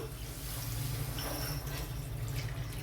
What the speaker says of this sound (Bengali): মিক্সি ধোয়া জলটাই দিয়ে দিচ্ছি